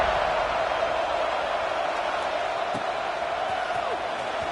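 A football stadium crowd in the video game College Football 26 keeps up a constant, loud buzzing roar after a touchdown, with a commentator talking over it.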